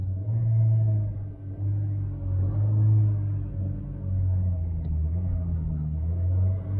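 An Opel Vectra on 20-inch wheels with 215/30 tyres and air suspension pulls away from a standstill, its engine a deep, loud rumble that rises and strains steadily, with a brief dip partway through.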